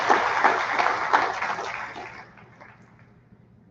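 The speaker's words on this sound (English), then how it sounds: "Let's give them a big round of applause" Audience at a school athletic awards program applauding the basketball team, dense clapping that fades away over a few seconds.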